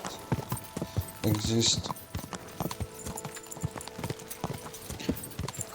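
Horse hooves clip-clop in Kingdom Come 2, a steady uneven trot close by, with someone talking over much of it and a brief louder burst of movement early on.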